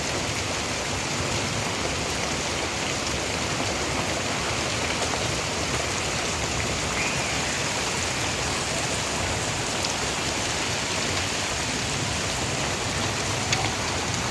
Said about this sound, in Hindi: बहुत तेज़ बारिश शुरू हो गई है।